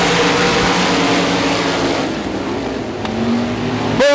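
Sprint cars race on a dirt speedway, a dense, loud roar of several engines droning together with passing swells and a sharp rising rev near the end.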